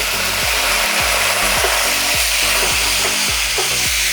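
Grated carrot and spices sautéing in a hot pan: a steady, close sizzle with regular scraping strokes of a spatula roughly twice a second, no voices.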